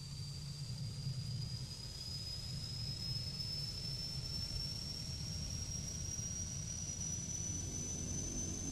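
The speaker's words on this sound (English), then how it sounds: "Turn the motor to start." A simulated aircraft engine in Flight Simulator X drones steadily as it starts, with a thin whine slowly rising in pitch over a constant low rumble, continuous and even throughout, no voices.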